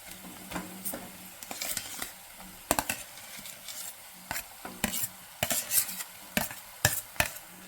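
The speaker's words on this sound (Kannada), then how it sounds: "ಇವಾಗ ಆಲೂಗಡ್ಡೆ ಸ್ನ್ಯಾಕ್ಸ್ ಮಾಡಿ ಇಟ್ಕೊಂಡಿದ್ದಲ್ಲ, ಅದನ್ನು ಹಾಕ್ತಾ ಇದ್ದೀನಿ." Boiled potatoes are tipped into a frying pan and stirred for an aloo paratha filling, giving a series of sharp, close spoon-and-pan scrapes and clinks over a soft sizzle, in irregular bursts with no talk.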